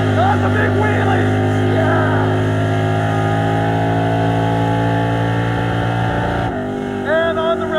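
A 1967 Camaro drag car launches down the strip, its engine a loud, sustained roar that holds on the rev limiter with a harsh, steady buzz. Excited voices shout over the engine noise.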